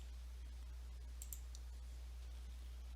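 A few light, quick computer mouse clicks clustered together, faint over a steady low electrical hum in a quiet room.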